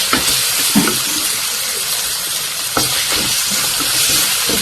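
Kebab pieces fry in hot oil, a steady broad sizzle running throughout with a few brief clinks and stirring knocks, close and moderately loud with no talking.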